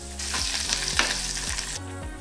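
Fenugreek, chana dal, peanuts, cumin and coriander seeds dry-fry in a pan with a steady close sizzle and rustle, punctuated by a few scraping stirs that make the seeds rattle.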